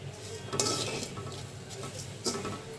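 Vermicelli is stirred with sugar and coconut in a pan, giving a continuous soft frying hiss with scraping spoon strokes and a couple of sharper clinks against the metal.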